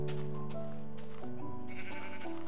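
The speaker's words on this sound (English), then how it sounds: "Good job, mutton." Sheep in the Minecraft video game bleat a couple of times over a steady layer of game background sound, moderately loud and close.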